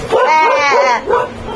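A close, loud dog bark drawn out into a yelping whine, then a shorter second yelp.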